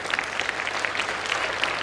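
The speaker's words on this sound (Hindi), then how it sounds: "ताली बजाई उनके लिए" Sustained applause from an audience at a public ceremony in Raipur announcing a park for people with disabilities, steady dense clapping throughout with no speech over it.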